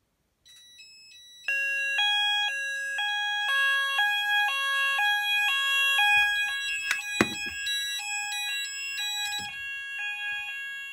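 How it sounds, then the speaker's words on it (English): Addressable fire alarm sounders on a Haes Vector system start up one after another, a sounder beacon base joining about two seconds behind. The result is a loud repeating stepped multi-tone electronic alarm pattern with some faint handling knocks partway through. "The integrated started first, and the sounder beacon base started 2 seconds after"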